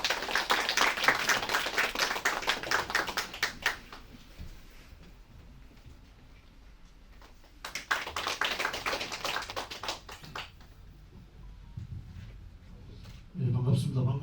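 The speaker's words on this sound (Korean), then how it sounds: "여러분 큰 박수 부탁드립니다" A crowd claps at the opening ceremony of an election candidate's campaign office in two lively bursts separated by a quieter lull. A voice starts speaking at the very end.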